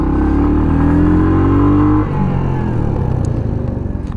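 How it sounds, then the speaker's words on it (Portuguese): A Royal Enfield Hunter 350 motorcycle engine revs up loud and close, its pitch climbing steadily for about two seconds before dropping sharply as the throttle is released, then settling into a rougher, lower idle. "Você dá aquela aceleradinha."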